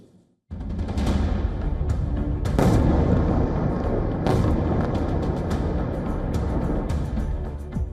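Russian missile and drone strikes on Ukraine, a continuous loud roar of explosions with several sharper booms standing out, heavy and sustained throughout.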